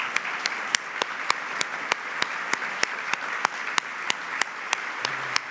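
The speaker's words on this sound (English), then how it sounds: "But if I really like to take a moment for everyone to just stand up and give Mark a round of applause" Conference audience at a regional state-of-the-region event gives a round of applause, a continuous wash of clapping with sharp, evenly spaced louder claps from one nearby person standing out throughout.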